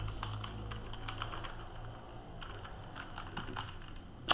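Clicking keystrokes on a computer keyboard that is malfunctioning, rapid irregular taps in clusters with short pauses, close and fairly quiet against a low background hum.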